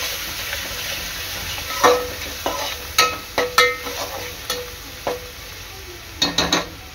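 Chopped onion frying in oil in a pan for sambar, a continuous hiss of sizzling under repeated close spatula scrapes and taps against the metal pan.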